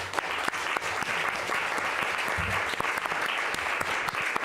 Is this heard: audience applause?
yes